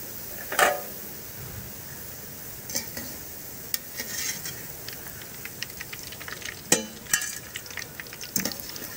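Boondi batter drops frying in hot oil for a Kerala-style ladoo, a faint steady sizzle broken by scattered sharp crackles and occasional light scoop clinks, no voices.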